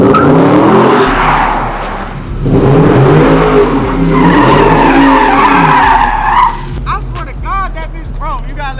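A loud car on 315-width rear tires revs hard and squeals its tires trying to break traction and drift, with repeated rising and falling engine surges and screeching rubber, close up, while people talk excitedly near the end.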